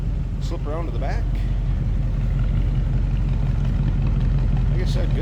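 A 1962 Chevrolet Impala hardtop's engine runs steadily with a constant low rumble heard close up, while someone talks over it.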